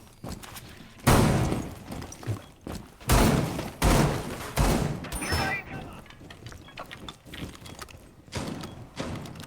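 Repeated gunfire in Rainbow Six Siege tears into a floor to open holes, several sharp bursts of shots with splintering thuds, loud and close, under a commentator's voice.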